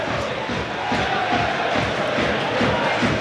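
Football crowd at Lincoln City versus Chelsea in the EFL Cup, a dense stadium roar of applause and cheering as a player walks over to take a long throw, continuous and broad.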